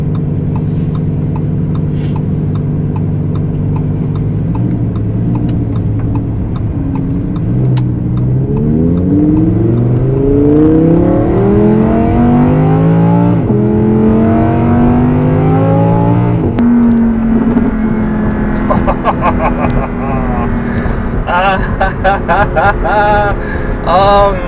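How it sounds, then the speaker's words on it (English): A 2018 Audi R8 V10 Plus engine revs and winds through gears, rising and falling sharply up close, with burbling pops on the downshifts and a brief voice near the end. "Oh, the burbling downshifts."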